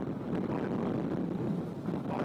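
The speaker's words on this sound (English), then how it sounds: "It's too gusty." Gusty wind buffets a boat at sea in rough conditions, a steady loud roar of wind noise that fills the whole stretch, with no clear voices.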